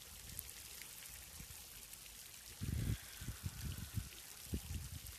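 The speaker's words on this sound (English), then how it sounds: "we have the water, we have the fountain, and we can just breathe into it" Water running from an outdoor fountain makes a steady, faint wash of splashing and trickling, with a few louder gurgling surges partway through and no voices.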